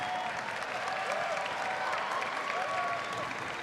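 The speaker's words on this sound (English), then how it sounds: "The applause there just for TLO leaving the booth." Applause and light cheering from a crowd at a StarCraft 2 semifinal at IEM Sao Paulo as a player leaves the booth, sustained clapping at moderate distance over the full few seconds.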